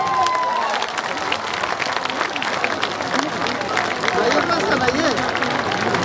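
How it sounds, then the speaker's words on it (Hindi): Sustained applause from a large crowd at a party founding convention on a veterinary ground, dense clapping mixed with crowd babble and a voice speaking over the noise. "जोरदार ताली बजाइए।"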